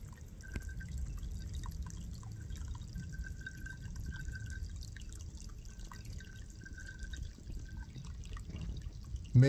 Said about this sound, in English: And you can see there, little water pipe.